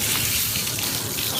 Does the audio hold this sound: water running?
yes